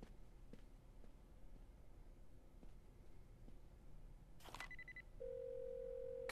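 A telephone call rings through in an animated Batman Beyond episode: after a quiet stretch, a steady electronic ringing tone sounds near the end, faint and alone.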